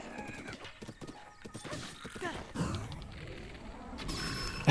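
Giant horse galloping in Zelda: Breath of the Wild, steady clip-clop hoofbeats with a neigh and clattering game effects, moderately loud and close.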